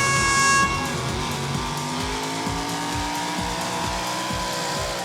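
A 1,300-horsepower diesel pulling truck roars at a truck-pulling competition, its tires screaming in a loud sustained squeal while the engine pulses in rapid repeated surges.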